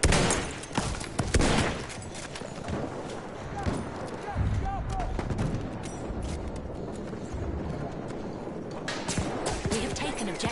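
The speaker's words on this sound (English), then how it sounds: "There's an enemy machine gun." Enemy machine gun fire in the World War I shooter Battlefield 1 crackles in rapid bursts amid explosions, hoofbeats and battlefield clatter, with soldiers' voices shouting over the din.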